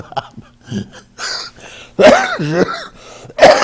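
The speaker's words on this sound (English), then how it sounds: "I will cough from time to time, as I still have the cold" Someone coughs and clears their throat close by, several rough bursts with brief gaps, the last one loud and sharp.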